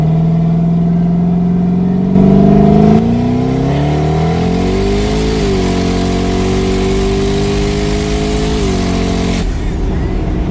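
A 700 HP twin-turbo 8-rotor Mazda RX-7 accelerates hard in a long, loud, close pull, its droning engine tone climbing steadily with brief shifts, and no voices heard.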